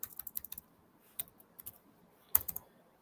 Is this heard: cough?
no